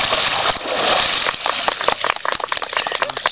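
Water sloshing and gushing as a person is immersed during a baptism, a loud close splash at first and then choppy dripping and lapping with irregular smaller splashes.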